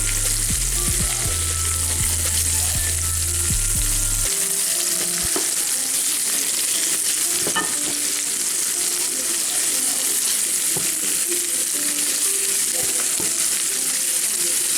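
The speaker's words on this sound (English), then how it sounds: "And I'm putting the rest of the shrimps in." Shrimp stir fry sizzling in a hot pan with onions, a loud steady frying hiss with occasional stirring scrapes, close and continuous, no talking.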